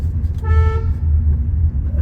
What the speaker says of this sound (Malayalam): ഞാൻ ഹോൺ അടിച്ച് അറിയിച്ചിട്ടുണ്ട് ഞാനുണ്ടെന്ന്